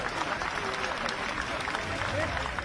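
An audience at an Indian government event about COVID vaccination claps steadily to welcome the Prime Minister. The dense, continuous applause fills the room while a voice carries on over it.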